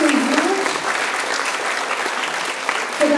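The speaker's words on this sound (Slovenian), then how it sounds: "še en velik aplavz za učenke iz Loč" An audience at a school awards event in Slovenia applauds top-performing pupils with full, sustained clapping from many hands, and a voice briefly rises at the start and again at the end.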